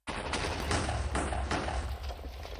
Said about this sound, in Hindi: क्या धमाके हो रहे हैं, बढ़िया बढ़िया एकदम, बढ़िया वाले धमाके हो रहे हैं भाई, बढ़िया वाले।